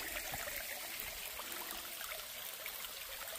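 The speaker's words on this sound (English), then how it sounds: "Teeny little water feature today." A teeny trail-side stream on the Appalachian Trail, swollen by last night's rain, trickling and rushing steadily and fairly close, a continuous wash of water with no talk.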